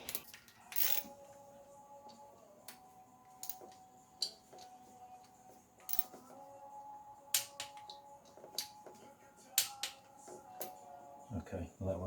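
Torque wrench tightening M6 camshaft bolts on a BMW N45 engine in a 1 Series, giving scattered sharp metallic clicks and ratchet ticks at irregular intervals, close and fairly quiet, with a brief scrape near the end.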